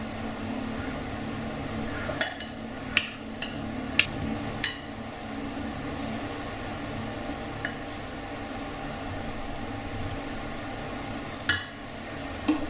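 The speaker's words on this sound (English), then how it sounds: "Now give a good mix." Foxtail millet salad is mixed in a bowl with a spoon, giving scattered clinks and taps of metal against the dish over a low, quiet background with no talk.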